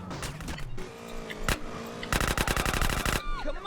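Gunfire in GTA San Andreas: a single loud shot, then a long rapid burst of automatic fire, with car engine and mechanical noise underneath.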